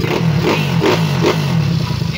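A Yamaha Mio scooter with a 193cc engine setup revs while warming up, its engine rising and falling in several bursts up close, with talk over it.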